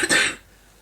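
A single short cough, close and fairly loud, lasting about a third of a second and then falling away to quiet room tone, heard during a crafting session.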